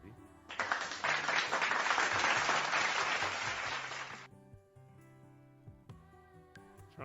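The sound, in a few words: applause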